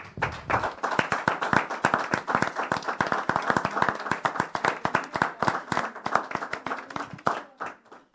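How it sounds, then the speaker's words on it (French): A church congregation clapping in steady rhythmic unison, many hands striking together at a brisk even pace, moderately loud throughout. "On acclame Jésus encore, frère"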